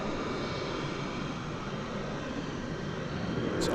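An Alaska Airlines Boeing 737-9 airliner taking off at DFW Airport, its engines giving a steady, loud, broadband roar that holds evenly throughout with no voices.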